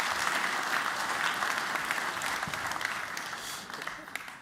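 An audience at a Moscow Times event in Amsterdam applauds an arriving guest, a steady wash of clapping from a crowd, fairly distant and even, with faint voices mixed in.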